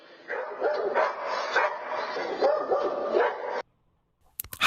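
A guard dog at a house barks and yips in a quick, agitated run of loud barks, then goes quiet before a brief burst of sharp noise at the end.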